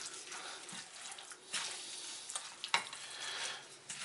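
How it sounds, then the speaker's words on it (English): A spoon stirring turkey pot pie filling, giving wet, sloshing scrapes and a few sharper clinks against the pot, close and fairly soft. "Now all we're going to do is just mix this in really good."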